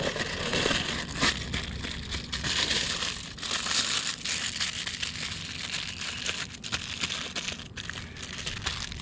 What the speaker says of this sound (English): Go ahead and fold this packet up.